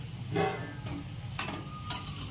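Onion pakoda frying in hot oil, giving a close, steady bubbling sizzle broken by a few short scraping stirs of a utensil across the pan, with no speech.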